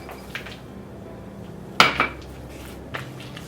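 A spoon stirs nuts into banana bread batter in a bowl, giving a few soft scrapes and scattered clinks against the bowl, with one sharper knock near the middle.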